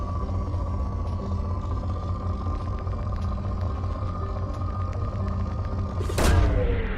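In Mass Effect 2, a planet probe launches as a sudden whooshing boom that bursts out near the end, above a steady low ambient hum from the game's ship interface.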